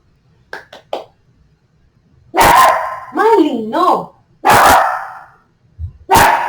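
A dog barks loudly and close, a few sharp barks mixed with a whiny, yodeling vocalization, while a person speaks briefly in between.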